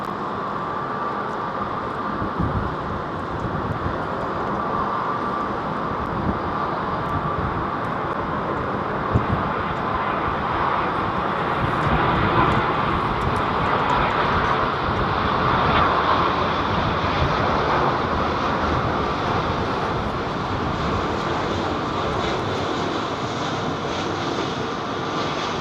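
A Boeing 767 airliner departs London Heathrow with a loud, sustained jet engine roar, a broad rumble that holds steady and swells slightly as it passes.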